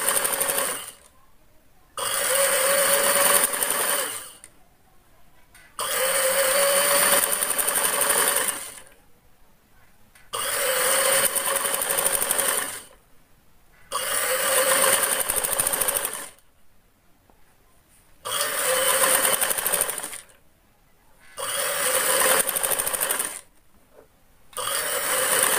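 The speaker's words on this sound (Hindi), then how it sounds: "यहाँ पे सबसे पहले स्टिच करेंगे इस तरह" A sewing machine stitches cut-work along a kurti border, running in repeated bursts of about two to three seconds each, separated by short pauses, loud and close with no voices.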